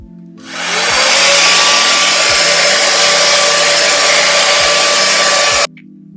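A Dyson Airwrap dupe hair tool used for a blowout on natural hair whooshes on loudly and close, holds a steady, even airflow roar for about five seconds, then cuts off abruptly.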